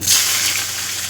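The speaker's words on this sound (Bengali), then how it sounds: "পেঁয়াজগুলো এবার সামান্য লাল লাল করে ভেজে নেব।" Chopped onions fry in oil that was tempered with dried red chillies, bay leaf and cumin, giving a loud, dense, close sizzle that swells at the start and then settles into a steady hiss, with no talking.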